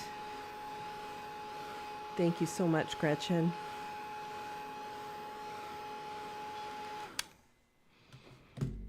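Hair dryer drying a watercolor painting of eggs, a steady whining blower hum running for seven seconds beneath a brief spoken line, then switching off abruptly, leaving near silence.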